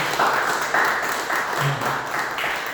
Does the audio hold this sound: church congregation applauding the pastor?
yes